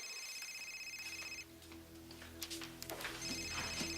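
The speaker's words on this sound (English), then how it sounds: "Would somebody answer the damn phone." A telephone rings in an indoor room, its bell sounding in bursts near the start and again at the end, with a soft ticking and low background hum in between.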